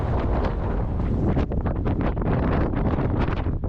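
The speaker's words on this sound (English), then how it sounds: "Wind is getting stronger." Strong wind gusts roar and buffet the microphone on a muddy springtime hiking trail, a loud, continuous rushing with no voices.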